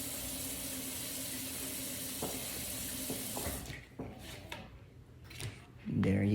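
Kitchen tap water running steadily while hands are rinsed during homemade pizza prep, a continuous hiss that breaks off partway, followed by soft clatter and handling sounds.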